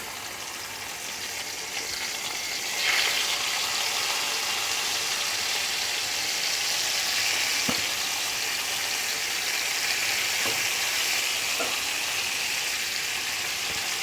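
Pieces of salted, turmeric-rubbed rohu fish fry in a small amount of oil, giving a steady, dense sizzle that holds evenly for the whole stretch, with an occasional soft clink of a utensil.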